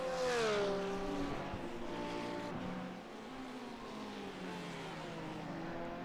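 Race cars on the Zolder circuit in a sim racing series, engines revving and shifting with falling and rising pitch as they brake and accelerate, fairly close and sustained.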